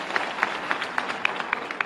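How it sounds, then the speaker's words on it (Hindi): An audience at a youth dialogue program in Bhopal claps in a fairly even rhythm, with sharp distinct claps standing out over a soft murmuring background, moderately loud and without clear speech. "तुमने हिम्मत की जोरदार ताली बजा मुझे"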